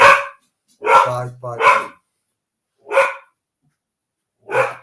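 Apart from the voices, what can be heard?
dogs barking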